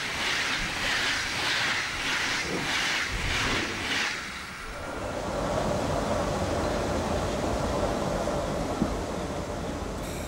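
A multicoloured Intercity train hauled by a class 112.1 electric locomotive rolls through Berlin-Friedrichstraße station, a loud steady rumble and hiss of wheels on rails with rhythmic clacking over rail joints, heard up close and continuous throughout.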